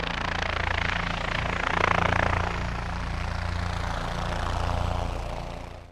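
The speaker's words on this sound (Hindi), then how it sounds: "129 हेलीकॉप्टर यूनिट के 4 Mi-17 1B हेलीकॉप्टर राष्ट्रीय ध्वज को सलामी देते हुए पुष्प वर्षा करते दिखे" Four Mi-17 1B military helicopters fly over a Republic Day parade, a steady loud rotor and engine drone that swells slightly as they pass, with no voices.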